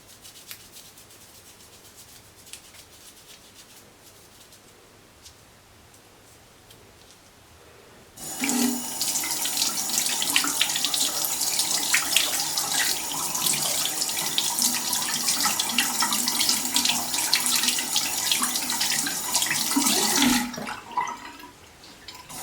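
Tap water gushes loudly and steadily into a sink while an oil paintbrush is rinsed with soap, starting abruptly after a quiet stretch and running for about twelve seconds before cutting off.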